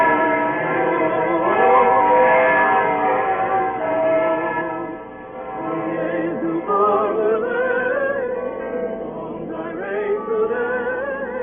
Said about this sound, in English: as the evening bells began to ring high up in